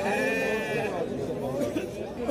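Sheep bleat at a busy village livestock market in Kashgar, a wavering cry rising briefly over constant crowd chatter and nearby talk.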